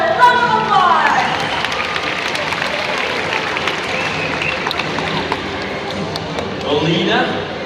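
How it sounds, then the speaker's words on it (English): An audience at a bird-of-prey show applauds a white-bellied sea eagle named Nelson, with steady scattered clapping and crowd noise spread over several seconds under a presenter's amplified voice. "let's give Nelson a round of applause"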